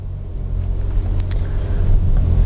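Automatic car with hill start assist pulling away on an uphill slope after the brake is released, a close, steady low engine rumble that swells slightly as it accelerates, with no talking.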